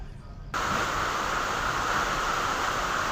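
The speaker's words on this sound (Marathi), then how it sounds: "आज दुपारपासून पाऊस खूप चांगल्या पद्धतीने कोसळतोय" Heavy monsoon rain pouring outdoors at a rural farmstead in Sakora, Nandgaon, a dense, steady broadband roar that starts abruptly and continues evenly without a break.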